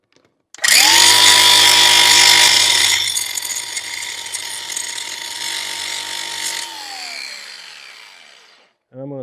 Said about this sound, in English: So I'm gonna go on and grind on this a little bit.